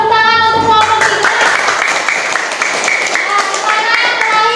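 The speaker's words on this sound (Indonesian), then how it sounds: "tepuk tangan untuk kelompok 3" A classroom claps for group 3 during a lesson: loud, steady applause from many hands fills the whole stretch, with children's voices mixed in.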